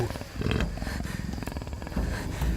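Puma growling in the Shadow of the Tomb Raider video game, a continuous low rumbling, purring growl with rough pulsing texture, close and steady for the whole stretch, with no talk.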